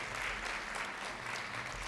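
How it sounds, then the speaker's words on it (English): Audience applauding the North Wales Choir at a school Black History oratorical competition, a brief, even wash of clapping from a crowd at a distance, faint and steady. "Can we give another applause to the North Wales Choir for that amazing rendition of Lift Every Voice and Sing?"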